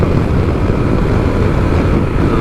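Honda Transalp 750 motorcycle, 2024 model, accelerating hard in third gear on a ride: a loud, steady engine roar with heavy wind rush, continuous and close.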